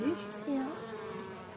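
Honeybees buzz steadily on a comb holding their queen, a close, continuous droning hum with a few louder passes near the start.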